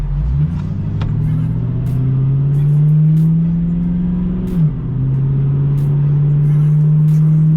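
A Ford Mustang with its suspension on the number 1 setting rolls over bumps, its engine a loud, steady low drone that rises slightly and dips briefly with small knocks.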